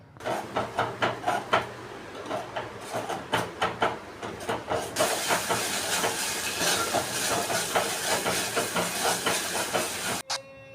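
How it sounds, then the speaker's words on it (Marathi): Ground masala paste frying in hot oil in a home kitchen, a continuous loud hissing sizzle with rhythmic stirring pulses at first, then a denser steady spatter, no voices. "आता हे सगळा मसाला व्यवस्थित असा फ्राय करून घ्यायचा आहे"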